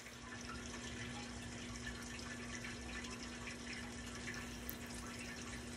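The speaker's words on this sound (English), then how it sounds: "we're also going to start the water recirculation by turning on the pump." A water recirculation pump in a beer pasteurizer runs steadily, giving a continuous watery hiss and trickle over a low, constant electrical hum, with no voices.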